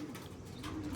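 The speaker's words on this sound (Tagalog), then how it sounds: "Habang si Madla to, nagpapapasok ng ibon doon." Soft pigeon cooing low in the mix, a steady murmuring coo over faint background noise, with a brief higher chirp near the end.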